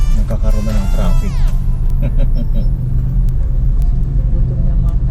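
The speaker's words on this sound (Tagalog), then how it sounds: "Nagkakaroon na ng traffic." Road traffic around Isulan with U-turn slots, a continuous low rumble of nearby engines and passing vehicles with a falling whine and brief hissy bursts, heard from within a vehicle while someone talks.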